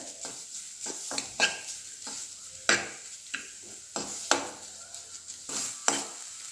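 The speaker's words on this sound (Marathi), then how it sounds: "याला व्यवस्थित हलवून घ्यायचे तुपावर आपल्याला याला परतून घ्यायचे छान लालसर" Ground ingredients roasting in ghee in a pan for sweet rice, with sharp spatula scrapes and knocks coming in an irregular rhythm over a soft, quiet sizzle.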